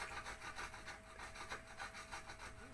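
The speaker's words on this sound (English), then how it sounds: "there's Dee Dee on her knees, scraping away happily, I might add." Someone on their knees scrapes a water tank by hand, a faint, continuous rasping rub in quick repeated strokes with no voices.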